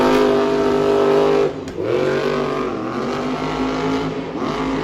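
Monster truck engine roaring at full throttle during a Monster Jam event in Orlando, Florida, loud and close, with a brief dip as the revs drop and then climb again, no talking over it.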